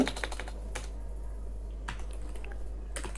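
Someone types a command on a computer keyboard with a few quiet, scattered key clicks and pauses over a low steady electrical hum, with no talking.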